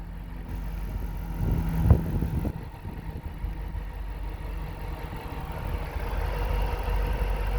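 Dodge Challenger SRT-8 with a 6.1 liter HEMI V8 idling under the open hood, a steady low rumble with a brief louder blip near 2 s, close and continuous.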